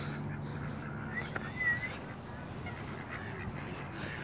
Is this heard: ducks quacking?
yes